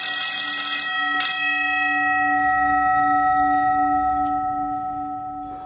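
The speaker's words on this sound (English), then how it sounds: "So when I press the emergency provision, the bell rang." An electric school bell triggered by a Toyomax bell timer rings loud and continuous, a steady metallic tone that holds for several seconds with a brief click early on before fading slightly at the end.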